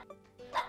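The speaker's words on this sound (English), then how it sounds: "It's a woof woof sound." A dog gives a few short barks and yips, moderately loud and close, lasting less than a second with no talking.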